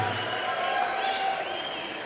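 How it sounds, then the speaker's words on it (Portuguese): Audience at a singing competition applauding a judge, a faint, distant wash of clapping that continues evenly throughout. "Palmas para Ju."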